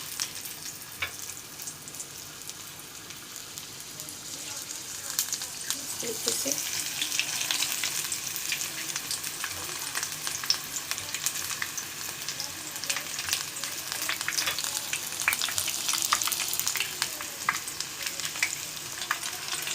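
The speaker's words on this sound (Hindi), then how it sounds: "ऑयल फुल फ्लेम पे हमने गर्म कर लिया है और वन बाय वन बैंगन जो है उसमें हम" Brinjal slices sizzle steadily in oil heated on a full flame, with a continuous close crackling fry that grows slightly busier as more slices go in, and occasional soft stirring sounds.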